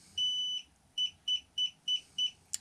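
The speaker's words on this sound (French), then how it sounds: "Vous avez un bip long et 5 bips courts." Xiaomi M365 electric scooter error 15 beeps: one long tone followed by five short, evenly spaced beeps, clear and close, with a quiet room behind them.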